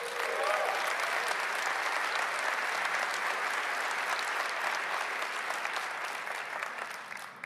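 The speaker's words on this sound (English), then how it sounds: "let's give a Summit round of applause to our winners" Sustained applause from a large keynote audience at a marketing summit, honoring award winners; dense, steady clapping fills the whole stretch, holding level and thinning slightly near the end.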